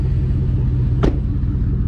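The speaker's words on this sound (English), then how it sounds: "stock LS2 going to work." A stock LS2 V8 engine runs steadily with a deep, constant low rumble, close and alone, with a brief higher whoosh midway.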